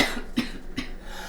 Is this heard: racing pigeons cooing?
no